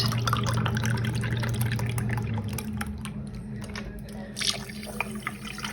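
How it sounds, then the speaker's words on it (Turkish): Milk is poured into a tiramisu cream mixture of egg yolk in a cup, making a thin close trickle and soft dripping over a low steady hum. No voices. "Süt ekleyeceğim arkadaşlar."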